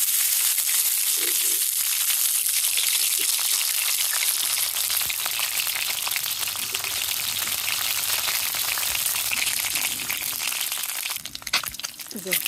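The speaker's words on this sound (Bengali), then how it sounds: "কড়াই তেল দিয়ে দিছি গরম হয়ে গেছে ডিমগুলো প্রথমে ভেজে নিই" Eggs frying in hot oil in a wok, a loud, continuous crackling sizzle with voices talking over it and a few clatters near the end.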